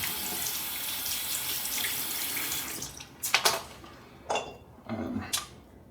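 A bathroom sink tap runs steadily with splashing water during a morning routine with braces, then cuts off, followed by a few short splashes and wet spitting sounds close by.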